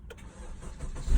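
A 2017 Honda Civic with a no-start fault cranks in neutral, a short rough churn that builds into a louder engine catch near the end, heard up close with no talking.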